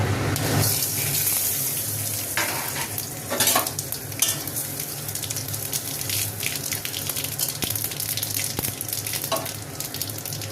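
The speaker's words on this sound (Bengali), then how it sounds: "ফোড়নটা সব একসঙ্গে দিয়ে দেবো।" Whole spices tempering in hot oil for a hilsa fish head and taro dish, a close steady sizzle with bursts of stirring and spattering, no speech.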